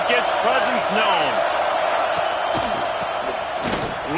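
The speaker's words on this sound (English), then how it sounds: "This crowd ready to make its presence known." A packed college football stadium crowd at a Florida vs Notre Dame game roars in a steady, loud wall of noise, with a play-by-play announcer talking over it.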